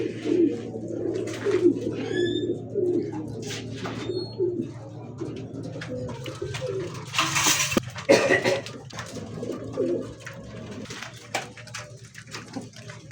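Pigeons coo low and continuously nearby, with a few chirps from other birds and occasional clattering in the background.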